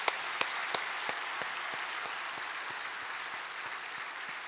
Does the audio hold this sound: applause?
yes